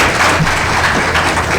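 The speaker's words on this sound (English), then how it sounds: "let's have a round of applause for our panel and our great facilitator" Audience applause for a panel and its facilitator, a steady dense wash of clapping from a room full of people, with no talk over it.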